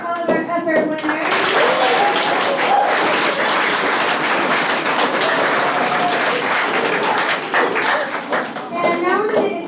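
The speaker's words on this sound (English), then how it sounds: "let's give a big round of applause for all of our effort winners." Sustained applause from an audience at a sixth-grade school award ceremony, steady clapping for effort award winners with children's voices and chatter mixed throughout, tapering slightly near the end.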